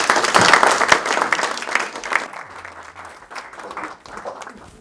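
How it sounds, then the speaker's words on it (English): An audience at a university event gives a warm round of applause for Dean Emert, loud dense clapping that starts strong and gradually thins and fades over a few seconds. "give me a very warm round of applause to Dean Emert"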